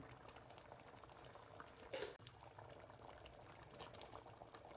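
A pot of milk payasam bubbles and simmers steadily nearby as the milk reduces, a soft continuous boiling with a brief louder burst partway through.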